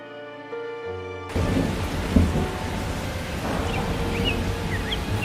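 Cartoon rain and thunder: a steady, heavy downpour begins abruptly after a short musical tone, with a low thunder rumble and a brief thump early on, loud and continuous.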